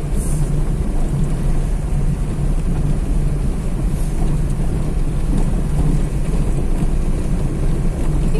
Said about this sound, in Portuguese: A gente tá indo embora na chuva e aqui é barro.